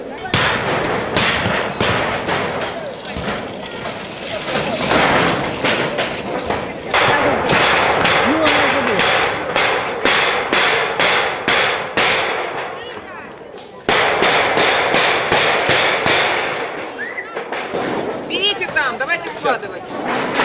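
Residents pull down a construction-site fence made of sheet panels on a city street, hammering and knocking on it again and again. The bangs are loud and echoing, land in uneven bursts and continue under a crowd talking throughout.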